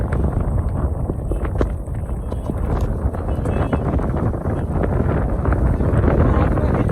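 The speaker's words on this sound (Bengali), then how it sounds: "বাতাস হচ্ছে" Loud, continuous wind buffeting the microphone amid snow at Atal Tunnel in the mountains, with a low rumble throughout, steady and close, no clear voices.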